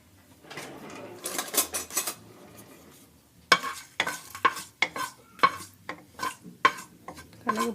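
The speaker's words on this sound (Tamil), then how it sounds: "கடுகு பொரியட்டும்." Mustard seeds and a chilli hit hot oil in a pan, giving crackling sizzle with a run of sharp popping bursts and metal clinks in a close kitchen setting.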